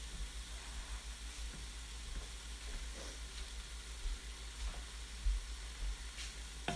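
Onions fry in a pan with a steady, soft sizzle while a utensil mixes and breaks apart clumps, giving occasional light scrapes and taps, fairly quiet and close, no voices.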